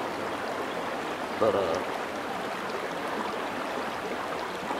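Water runs steadily through a gold sluice set in a river, a constant close rushing wash that fills the whole stretch, with one brief spoken word near the start.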